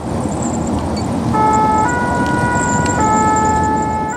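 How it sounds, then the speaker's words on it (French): A French ambulance siren wails steadily on the way to a road accident, loud and close over the low rumble of the moving vehicle, its two-tone pitch shifting a couple of times. "L'ambulance de Magnanville vient d'être appelée en renfort sur un accident de la route"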